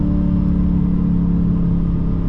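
Dodge Challenger R/T engine rumbling in a steady, loud, close drone under acceleration, with a sustained low growl and a faint whine above it throughout.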